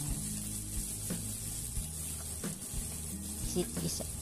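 Shrimp dropped into a hot frying pan for a single-portion spaghetti with vegetables, giving a steady close sizzle with scattered clinks and stirring taps throughout.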